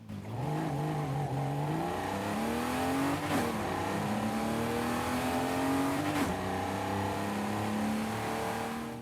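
A BMW M6 635CSI in Forza Horizon 5 revs and accelerates through several gears, the engine note rising steadily and dropping at each shift, loud and continuous with no talking.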